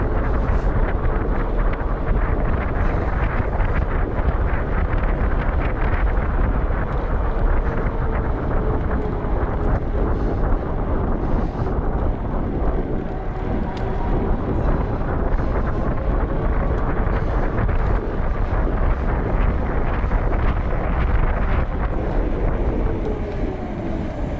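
Steady rushing wind noise buffets the microphone as a Lectric XP e-bike is pedaled at top speed across a parking lot, continuous and loud for the whole stretch, with no talking.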